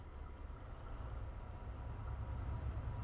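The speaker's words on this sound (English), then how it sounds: "Do a couple train bys for you guys." A Class 70 Freightliner diesel freight train in Train Simulator 2016 rumbles past on the South Wales Coastal line, a steady low, loud rolling drone that holds for a few seconds with no talk.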